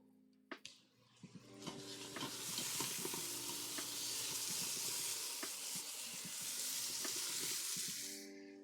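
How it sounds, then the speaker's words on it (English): Vegetables fry in a hot pan, starting with a few sharp clatters and then building to a dense, steady sizzle with scattered pops and stirring taps over a low background hum. "Veggie sizzle"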